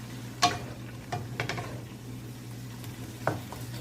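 Fried fish and cauliflower are being stirred in a pan: a few sharp scraping clicks over a steady low hum and a soft sizzle, with no talking.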